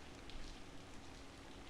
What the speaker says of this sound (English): Can barely hear the rain.